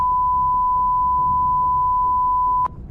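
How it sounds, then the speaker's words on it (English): A steady electronic beep tone in Mass Effect 1 Legendary Edition holds unbroken for nearly three seconds over a low game rumble, ending in a short burst. "now we got beep"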